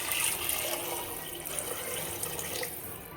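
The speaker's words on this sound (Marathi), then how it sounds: "यामध्ये मी पाणी टाकून घेते" Water poured into a misal spice mixture in a pan, a soft steady splashing trickle that runs quietly and continuously for a few seconds with no speech.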